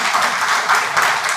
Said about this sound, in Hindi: आपके लिए ताली बजाइए कि कर्मशील जी से मैं